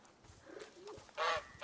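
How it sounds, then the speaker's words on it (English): A goose in A Plague Tale: Innocence gives a short, loud honk near the end, after some soft low murmuring, close by and otherwise quiet. "Hey, Goose."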